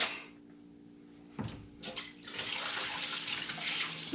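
Water is poured through a dispersing lid into a 75-gallon home aquarium, starting after a brief splash as a steady, loud, close rushing stream that continues to the end.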